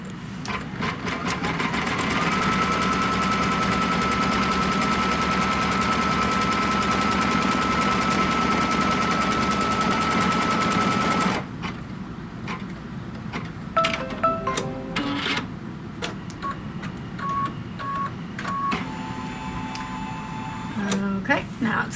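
An automatic quilting machine stitches a stipple pattern with a loud, rapid mechanical chatter for about eleven seconds, then stops, leaving quieter clicks, taps and intermittent mechanical sounds in the room.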